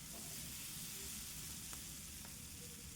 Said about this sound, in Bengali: এবার ভালো করে এটা ভেজে নেব